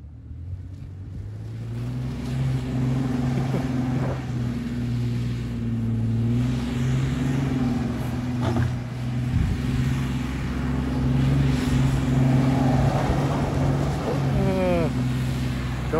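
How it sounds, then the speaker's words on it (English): A Chevrolet Blazer 4x4 spins reverse donuts, its engine a loud, steady droning roar that holds over the whole stretch, with wind noise on top and a rising whine near the end. "Show us some reverse donuts."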